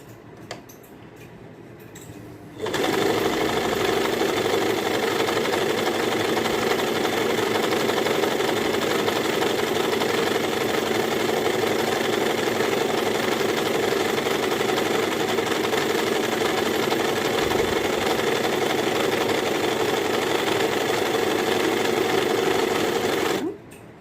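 An Usha Stitch Queen sewing machine sewing a dense satin stitch: after a short quiet start it runs steadily and loudly for about twenty seconds, a continuous fast mechanical whirr, then stops abruptly.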